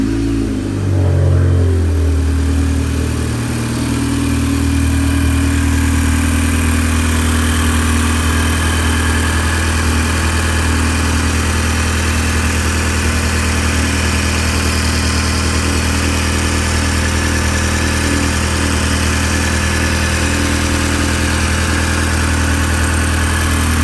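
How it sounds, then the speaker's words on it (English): A 2007-2012 Audi TT engine cranks and catches, then settles into a steady, loud idle that drones on evenly, heard close after a valve cover gasket replacement. "the next step is to go ahead and start the car and see if we have any valve cover leaks"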